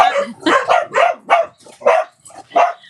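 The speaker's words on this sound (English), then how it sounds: "my dogs are barking at me" Several dogs barking indoors, a loud close run of about seven sharp barks in an uneven rhythm with short pauses between them, and no talking.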